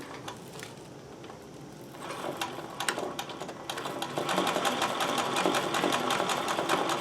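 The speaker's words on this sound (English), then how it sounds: "you're really sewing through some heavy fabric" Embroidery work on a sewing machine stitching through heavy fabric: a steady fast mechanical rattle of the needle that starts softer and speeds up and grows louder, close by with no talking.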